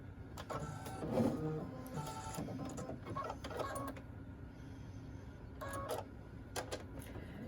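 A sewing machine fitted with a laser guide light stitches a wrist sling bag, its mechanical whirring running in short bursts with pauses between, close but fairly quiet.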